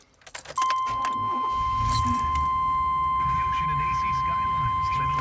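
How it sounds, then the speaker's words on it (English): A truck started with the key: keys jangle, the starter cranks briefly and the engine catches into a steady loud idle, with a high tone sounding throughout and someone talking over it. "Alright, I'm going to start the truck."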